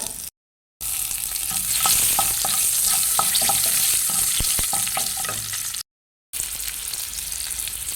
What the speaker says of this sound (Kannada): ಕಟ್ ಮಾಡಿ ಹಾಕ್ಕೊಳ್ಳಿ ಹಸಿಮೆಣಸು. ಸ್ವಲ್ಪ ಫ್ರೈ ಮಾಡಿಕೊಳ್ಳುವ.